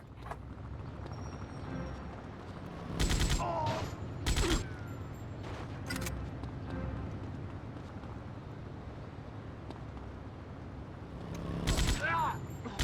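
Gunfire in GTA Vice City Stories on PS2, several loud bursts of shots at intervals over continuous game background noise and ambience.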